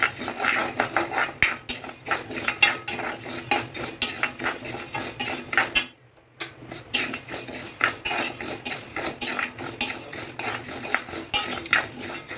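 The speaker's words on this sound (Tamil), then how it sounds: "கறி விடாமல் இளம் வறுப்பா உளுந்து வாசனை வர வரைக்கும் நல்லா வறுக்கணும்" Urad dal dry-roasts in a pan, stirred with a metal spoon that scrapes and taps in a quick, repeated rhythm close by, pausing briefly for a moment before resuming.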